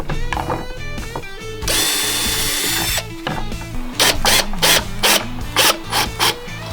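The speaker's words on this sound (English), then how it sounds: "So we'll pop a screw in there, and then we'll double and triple check it" Power drill driving a screw into the seat bracket of a Triumph Tigress scooter, with several short bursts of buzzing drill whine and grinding, close and loud, over a steady hum of background music.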